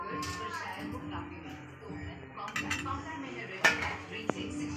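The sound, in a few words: lid being put on a cooking pot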